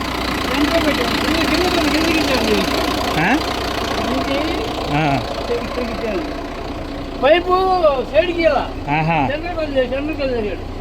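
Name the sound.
Bharat Benz lorry engine idling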